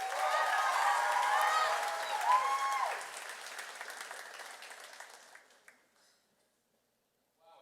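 Loud audience applause at a charity gala, dense clapping with some cheering that gradually thins and fades out to near silence.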